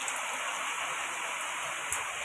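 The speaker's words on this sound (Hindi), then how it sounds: "आज ना बहुत दिन के बाद यहाँ पर बारिश हो रहा है" Steady rain falls with an even, constant hiss throughout, and one faint tap comes near the end.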